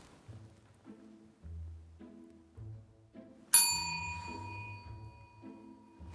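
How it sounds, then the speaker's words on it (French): A single bright ring from a tabletop bell struck during a team party game, a sharp ding with a long ringing decay, set among soft low background murmurs and movement. "chaque personne de chaque équipe va appuyer sur cette cloche"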